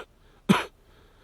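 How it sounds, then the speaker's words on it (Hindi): A single short, sharp cough, close and alone, bursting out briefly amid near silence. "आपको खांसी हो गई है क्या?"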